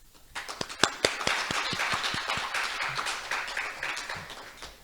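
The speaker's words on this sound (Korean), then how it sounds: "다시 한번 큰 박수 부탁드리겠습니다" An audience claps after a keynote lecture at a Jeju studies conference, starting with a few sharp individual claps and swelling into steady, moderately loud applause.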